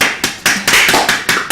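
Studio audience clapping on a Korean comic medical talk show: a loud, close burst of rhythmic claps in about six or seven even beats.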